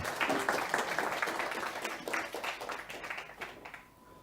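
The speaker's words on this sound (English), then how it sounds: "Give Hanne a big round of applause, everyone." Attendees at a healthcare IT dialogue meeting clap as a participant named Hanne is invited on stage; moderate applause with distinct individual claps that gradually thins and fades toward the end.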